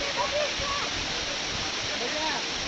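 Water from a natural fall strikes rocks with a steady, broad rushing splash that stays constant throughout, with faint tonal traces over the wash.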